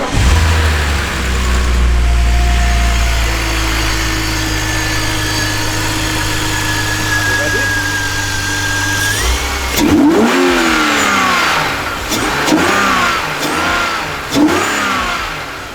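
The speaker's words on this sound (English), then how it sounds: "It did have quite a bit of induction sound there because obviously there's no air filter or nothing" A BMW E46 drift car with a Ramair induction kit and no air filter idles loudly and close, then revs up in several rising and falling sweeps with strong intake noise.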